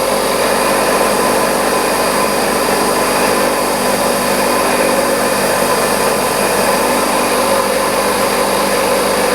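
A small center drill bores into steel on a machine, producing a steady, loud high-pitched whine with the machine's motor droning continuously underneath. The sound is close and uninterrupted, with no talking.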